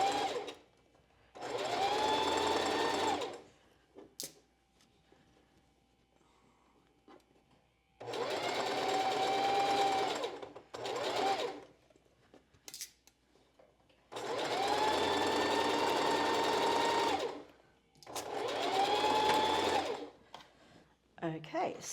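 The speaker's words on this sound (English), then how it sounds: "we're just going to sew at 1/4 inch with a straight stitch" Sewing machine running a straight stitch at a quarter-inch seam on a strapless bra, in four sustained bursts of steady whirring separated by short pauses, close and clear.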